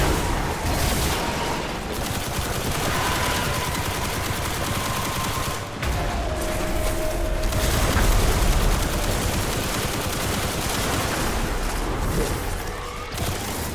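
Destiny game combat in a Warlock mission: dense, continuous automatic gunfire with bursts and booms from a grenade blast, loud and sustained throughout with no talking.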